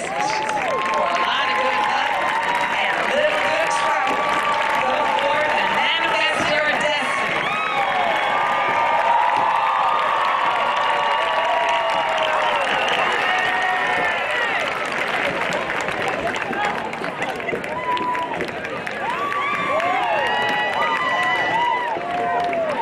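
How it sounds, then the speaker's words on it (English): Audience at a Mississippi Valley State University commencement ceremony applauding and cheering in a steady, dense wash of clapping, with whoops and many voices layered throughout. "Let's give her another round of applause."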